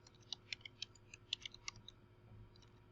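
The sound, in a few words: typing on computer keyboard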